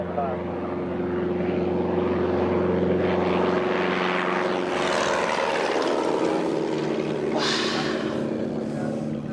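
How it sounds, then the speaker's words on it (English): A propeller airplane takes off, its engine drone loud and steady, rising then shifting in pitch as it climbs away, with a radio voice heard over it. "Flight 37 Tango, clear for takeoff, right pattern."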